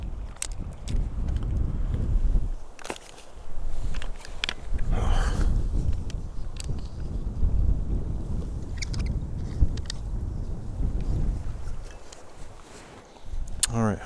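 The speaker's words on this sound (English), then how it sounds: "It's very windy." Strong wind buffets the microphone outdoors in long rumbling gusts, loud and near, with a brief lull near the end.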